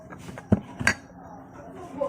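Two light, bright clinks of a spoon against a glass, close and brief, from a school Archimedes experiment with salt, an egg and a glass of water. A soft voice murmurs faintly underneath.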